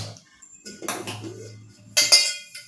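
A metal pot clanks and scrapes onto a gas stove in a few quick knocks, close by, with a brighter clatter near the end.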